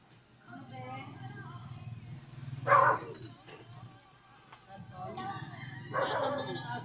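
Dog giving a couple of sharp yipping barks and whimpers at home, brief bursts standing out over ongoing nearby conversation and background household noise.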